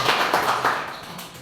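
Short round of applause from students in a classroom, a quick dense clatter of hands for under a second that quickly tapers off.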